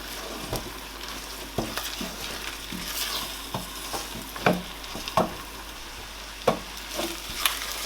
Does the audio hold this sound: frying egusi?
yes